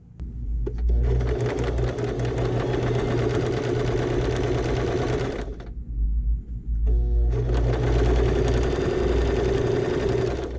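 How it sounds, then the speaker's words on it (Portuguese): Sewing machine running in long close bursts as it stitches patchwork fabric strips right side to right side, stopping briefly near the middle before starting again, with no talk. "Direito com direito, vou costurar pelo lado da faixa, deixando 2 centímetros sem costurar."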